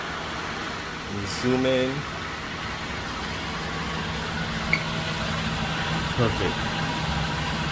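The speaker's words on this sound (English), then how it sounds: "Turn on the vehicle" A 2008 Toyota Avalon Limited engine idles with a steady, low, even hum throughout, while a person talks briefly over it.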